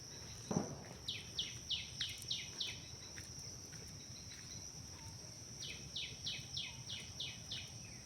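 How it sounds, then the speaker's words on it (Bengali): In a quiet, vast bamboo grove, a bird gives two series of rapid repeated chirps, moderately near, over a constant high insect drone and soft ambient hiss. "কিছু পাখির ডাক শুনতে পাবেন।"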